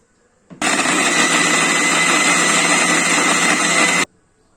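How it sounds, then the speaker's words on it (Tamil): A mixer grinder blends carrots, peeled soaked almonds and water in its jar, a loud steady whirring roar that starts abruptly, holds evenly for about three and a half seconds, then cuts off. "கேரட் நல்லா நைஸா அரைச்சிக்கிட்டோம்"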